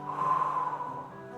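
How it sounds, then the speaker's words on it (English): One slow breath is drawn in through the nose and released, a soft close airy rush that swells and then fades, heard alone. "Inhale through the nose. Exhale."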